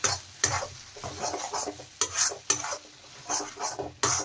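A pea filling with amchur powder and kasuri methi is stirred and fried over high heat for khasta kachori, the spoon scraping the pan in rhythmic strokes over a steady sizzle, close by.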